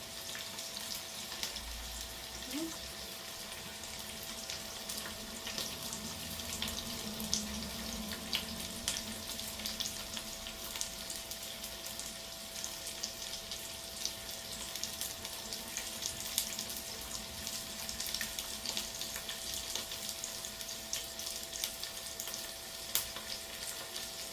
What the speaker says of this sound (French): Il va falloir que je remue les petits oignons là.